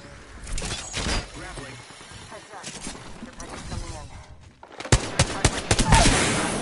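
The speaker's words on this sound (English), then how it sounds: "He's shooting at me." Gunfire in the battle royale video game Apex Legends, scattered shots early, then sharp rapid bursts that grow loud and dense near the end, with a player talking over the action.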